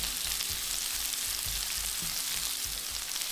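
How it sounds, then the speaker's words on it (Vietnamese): Sliced red onion frying in a pan over high heat for a grilled honey chicken dish, a steady close sizzle with faint rhythmic stirring beneath it and no talking. "Chiên cho cái hành tây nó bốc mùi thơm lên"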